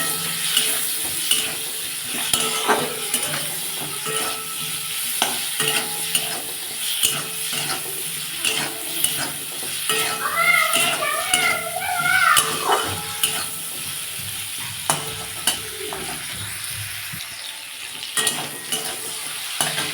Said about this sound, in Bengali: এর মধ্যে আমি একটু হলুদ দিয়ে দেবো আর একটু নুন দিয়ে দেবো দিয়ে ভালো করে মুখটা একটু ভেজে নেবো